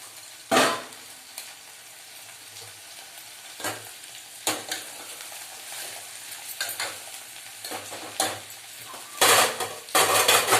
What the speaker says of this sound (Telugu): ఇవి మంచిగా గోలాలి, ఎర్రగా అయ్యేటట్టు